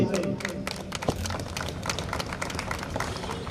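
A crowd claps steadily for trainees at a police PAC passing-out parade in Bareilly, a continuous patter of many hands throughout with a brief sharp thump early on and voices faintly underneath.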